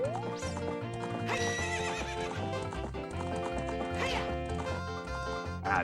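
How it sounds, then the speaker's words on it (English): Horse hooves clip-clop at a steady gallop with neighs and whinnies while riding Epona in the N64 game Ocarina of Time, set over continuous game music, loud and close. "here we go, horse riding."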